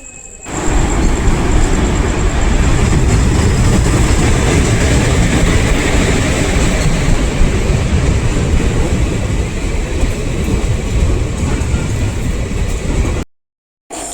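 Jabalpur–Coimbatore Express rolling into Shoranur station, a steady loud rumble of a passing train with rail clatter and a faint high whine, sustained for about thirteen seconds before cutting out.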